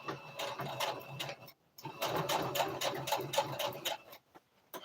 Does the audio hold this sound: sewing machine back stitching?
yes